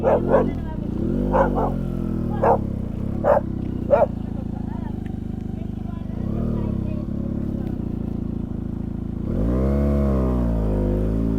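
A dog barks about half a dozen times in a quick series near an idling Benelli TNT 300 motorcycle on an off-road mountain trail in Lamjung, followed by the engine rising in a brief rev.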